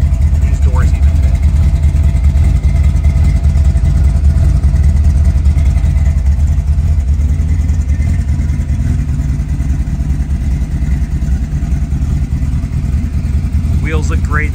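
A 1932 Ford's engine idles steadily after start-up, a low continuous rumble that stays loud and even for the whole stretch, with a brief higher sound near the end.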